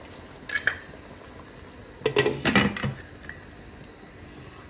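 A metal lid set over a pot of mutton karahi with lemon pieces on a kitchen stove, giving brief clattering metallic clanks in two bursts, close and fairly loud, with no talk.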